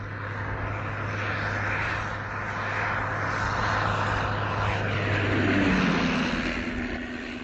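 A Sopwith Camel biplane with a rotary engine flying, a steady droning propeller roar that holds loud throughout, with a low engine hum beneath it, no talk.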